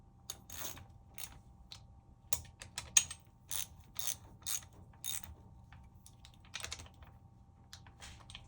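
A ratchet snugs up screws holding a case in place, giving bursts of quick mechanical clicks in short irregular runs, close but fairly quiet.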